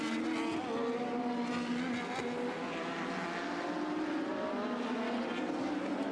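1980s Formula 1 cars racing at the Brazilian Grand Prix as Nelson Piquet overtakes Keke Rosberg from the outside, a loud continuous high-revving engine scream with shifting pitch and no talk.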